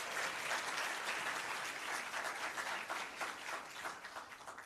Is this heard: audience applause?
yes